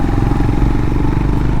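Honda CB 350 RS motorcycle climbing a mountain road in second gear, a loud, close, steady low engine thrum with a rhythmic pulsing exhaust note.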